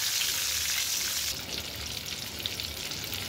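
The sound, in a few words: eggs frying in mustard oil with turmeric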